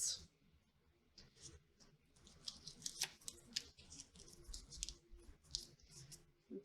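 Scissors cutting small fabric or paper scraps, a series of faint, sharp snips and clicks scattered over a low background with no talking.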